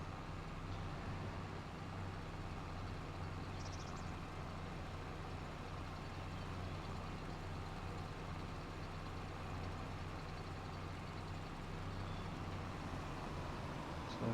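A trailer unloads in Farming Simulator 25 with a steady low engine drone and a faint even rumble, constant and unbroken.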